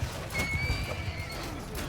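A horse whinnies in Mount & Blade II Bannerlord amid battle noise, one thin rising-and-falling neigh over muffled hoofbeats and thuds in a busy game mix.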